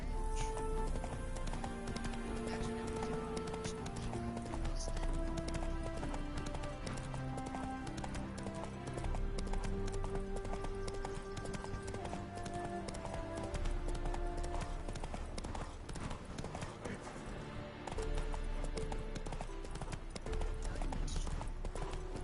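Rhythmic hoofbeats of a horse clip-clopping steadily under a dense, busy game soundtrack, with scattered voices talking over it.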